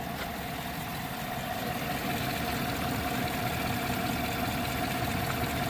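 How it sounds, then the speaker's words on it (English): Direct injection engine of a service truck idling, a steady low rumble with a constant hum, continuous and moderately close, with no voices. "got the truck idling here for a little bit"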